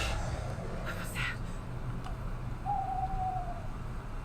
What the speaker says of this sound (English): she was just an owl